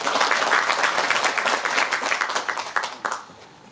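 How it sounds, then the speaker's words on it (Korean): An audience at a book concert for a Korean preliminary election candidate applauds loudly and steadily, then thins into scattered individual claps near the end. "박수로 함께 청해보겠습니다"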